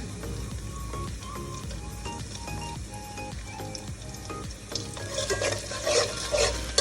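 Garlic paste being stirred as it fries in a pan, spoon scrapes and clinks over a soft steady sizzle that grows louder toward the end.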